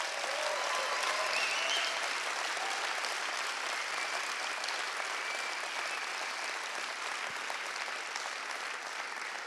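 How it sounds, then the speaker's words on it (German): An audience in an auditorium at a Cradle to Cradle congress gives sustained, even applause, a dense wash of clapping that holds steady and fades slightly near the end, with no voices. "Einen herzlichen Applaus auch für Sie."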